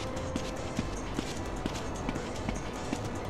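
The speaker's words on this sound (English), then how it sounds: "this sounds like walking" Footsteps in the GTA San Andreas Criminal Russia mod video game tap along at an even walking pace, about eight quiet steps over a steady bed of ambient game noise.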